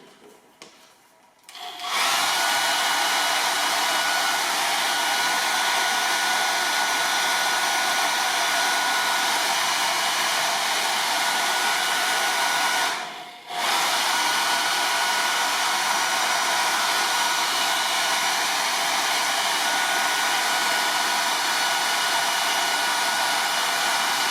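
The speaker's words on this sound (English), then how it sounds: "If I can find my hair dryer, there it is." A hair dryer switches on and blows with a steady, loud whooshing roar, cutting out briefly midway before resuming its constant drone.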